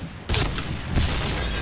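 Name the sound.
explosions in the video game Point Blank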